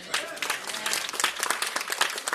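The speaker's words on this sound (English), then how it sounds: "let's give the Lord a hand clap" Audience applause at a clergy council fellowship dinner, a brief burst of steady hand clapping from a crowd filling the room, fairly close and lively throughout.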